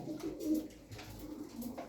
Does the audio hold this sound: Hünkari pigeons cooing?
yes